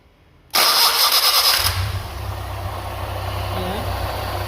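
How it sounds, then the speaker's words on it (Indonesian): A Toyota Kijang Super with a 5K engine cranks and catches right after its distributor is reassembled, a loud sudden start that settles into a steady rough idle, close by. "langkah terakhir adalah kita mencoba starter. Oke, kita coba start."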